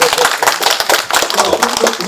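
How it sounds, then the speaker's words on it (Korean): A forum audience at a lecture on the 2.28 democracy movement claps together in dense, steady rounds for about two seconds, filling the hall without pause. "박수 한번 쳐주시오"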